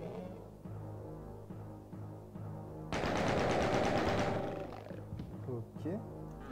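Rapid automatic gunfire from the first-person shooter DOOM bursts out for about two seconds, loud and dense, over roaring game creature sounds and a droning soundtrack, followed by scattered shots and effects.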